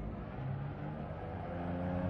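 A rally car's exhaust drones steadily and quietly in the DiRT Rally driving game, with a continuous engine roar and no distinct revs or pauses.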